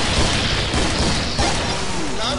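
A thrown grenade detonates in the video game Killing Floor, with a loud boom and crashing burst over ongoing gunfire and game noise that stays dense throughout.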